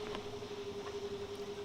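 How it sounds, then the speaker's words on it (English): A sailboat's wind generator makes a steady whirring drone with a constant hum throughout, mixed with gusty wind noise, fairly faint and unbroken. "You can hear the wind generator going here."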